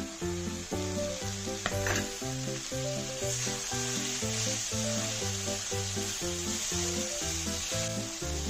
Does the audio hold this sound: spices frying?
yes